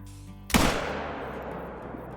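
A single rifle shot is fired at an animal in a hardcore-mode hunting game at Layton Lake, a sudden loud crack followed by a long rolling echo over steady ambient background.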